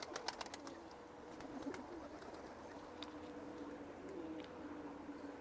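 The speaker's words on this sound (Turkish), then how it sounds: "Kuşların yarısı içeride duruyor Gökhan." Low pigeon cooing murmurs under scattered clicks and rustles, fairly quiet and continuous, with a few sharp taps near the start.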